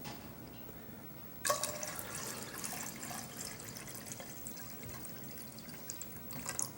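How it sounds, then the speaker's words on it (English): Water poured over sweet potatoes in a pot starts abruptly and keeps up a continuous splashing, trickling stream, fairly close and steady. "So we're gonna put some more water in there."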